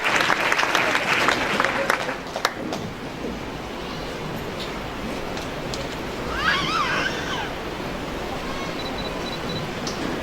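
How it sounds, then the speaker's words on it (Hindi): A church congregation at a Sunday service of Rajasthan Pentecostal Church in Udaipur claps to welcome a pastor, producing a continuous, fairly loud wash of applause with voices and a few shouts mixed in. "बढ़िया ताली के साथ प्रभु के दास का स्वागत करें"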